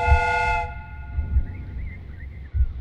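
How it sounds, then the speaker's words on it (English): A train's steam whistle in the Sherlock Holmes Crimes and Punishments video game, a loud multi-tone blast that cuts off abruptly, followed by low rumbling thumps of the train and a faint whistling tone. "The steam whistle is ready to be used."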